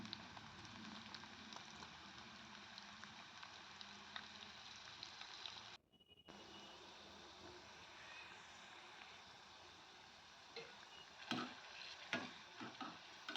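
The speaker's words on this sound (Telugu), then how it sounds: "ఇప్పుడు ఈ గింజలు డీప్ ఫ్రై చేసుకోవాలి. మంచి కలర్ వచ్చేదాకా వేయించుకోవాలి నూనెలో." Sweet corn kernels deep frying in hot oil give a steady, dense sizzle and crackle that runs throughout, with a short dip near the middle and a few sharper pops toward the end; no one speaks.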